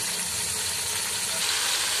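Garlic ginger paste frying in a pan, a steady close sizzling hiss that holds evenly without pause.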